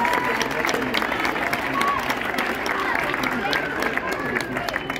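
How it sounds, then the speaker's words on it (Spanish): Crowd applause for a wrestler at a neighbourhood lucha libre event's opening ceremony, steady and sustained throughout with babbling voices mixed into the clapping. "Un aplauso para él,"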